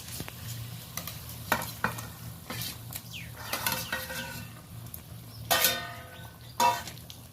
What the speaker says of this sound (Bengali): তরকারিটা বেশ ভালোভাবে ফুটে গেছে ভেজে রাখা মাছগুলো এক এক করে তুলে দিচ্ছি